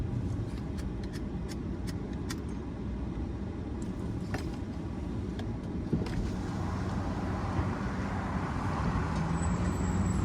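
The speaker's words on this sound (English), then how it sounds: "here we are now crossing the border from Bel Air into Brentwood, crossing the 405 freeway" A steady roar of freeway traffic drifts up from the 405 in Los Angeles on a weekday morning, with broad engine rumble and a few sharp clanks and air-brake hisses from passing vehicles, no voices.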